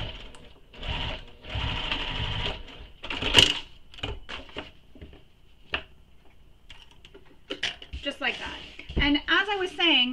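Sewing machine baste stitching a connector onto fabric for a mini crossbody bag, running in short close bursts separated by pauses, with handling clicks and a voice speaking between runs.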